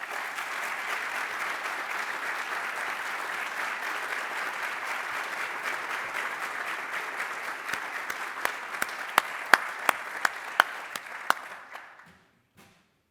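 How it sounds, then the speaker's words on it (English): An audience at a criminal justice recruit class graduation ceremony applauds steadily and loudly for a graduating recruit. The clapping thins into a few distinct claps before it stops. "It's nice to clap for him."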